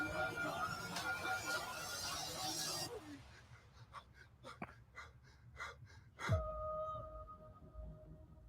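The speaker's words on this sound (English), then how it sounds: "Heavy breathing to finish it off." Heavy breathing in a Squid Game Season 2 teaser: a few sharp gasping breaths that follow a busy, loud opening, then sparse, tense breaths in near silence, ending with a low swooping hit and a sustained tone.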